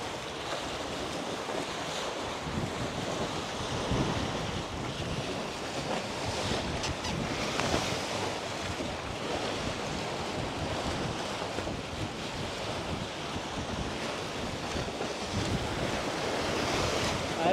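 Steady wind rush and breaking waves surround a sailboat making 8-9 knots in about 13 knots of true wind, a loud, continuous roar of water and wind buffeting with no speech.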